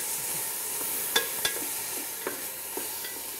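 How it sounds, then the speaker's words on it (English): Chopped red bell pepper fries in a pan with a steady soft sizzle, punctuated by a few sharp clicks of a utensil stirring against the pan. "and red bell pepper that I've chopped up. All right, I'm gonna fry this up for about 5 to 6 minutes until it's nice and soft."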